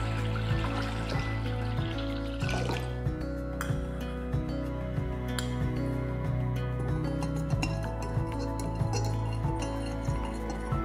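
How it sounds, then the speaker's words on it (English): Repeated light clinks of a utensil against a bowl as salt is stirred into water, in a steady stirring rhythm, with faint sloshing water and steady background music. "Take a bowl, fill it with water, add salt and stir."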